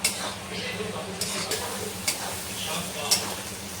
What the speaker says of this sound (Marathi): कांदा तर आपल्याला 10 ते 12 मिनिटं चांगला परतून घ्यायचा आहे.